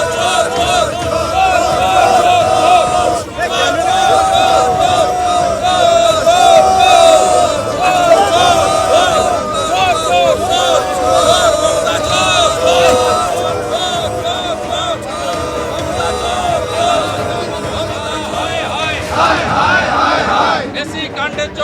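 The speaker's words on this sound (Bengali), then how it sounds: "বিধাননগর কমিশনারেটের সামনে উঠল চোর চোর স্লোগান" A dense protest crowd outside the Bidhannagar Commissionerate in Kolkata chanting 'chor chor' slogans, loud and continuous rhythmic shouting from many voices with whoops and cheers throughout, close and unbroken for the whole stretch.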